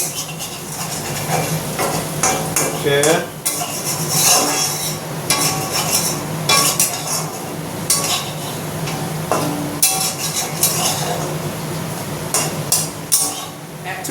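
Onions frying in a pan while being stirred, a steady sizzle carrying through with repeated utensil scrapes and clinks against the pan, fairly loud and close, with some background voice at times.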